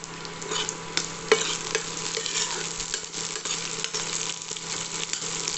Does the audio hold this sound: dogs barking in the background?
no